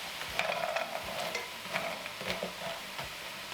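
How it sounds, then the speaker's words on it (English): Food sizzles and crackles in a preheated skillet while it is stirred, with a steady close frying hiss and occasional scraping stirs throughout. "So we're just gonna throw this in my skillet, which I've had heating up."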